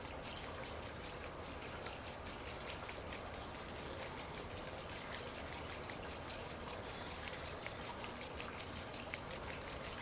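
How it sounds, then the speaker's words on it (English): Palms rub briskly together in a steady, continuous swish during a restorative meditation session. The friction is close and even, with no talking over it. "Rub your hands together."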